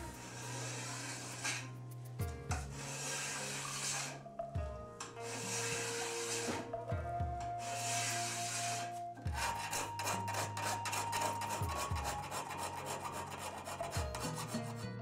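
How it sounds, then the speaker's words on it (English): Hand and machine work shaping a Japanese katana blade: steady rasping, rubbing strokes of filing and scraping mixed with grinding, continuous and close, with repeated low droning bursts under the scraping. "performs the final shaping of the blade with a combination of mechanical grinding, filing, and hand scraping"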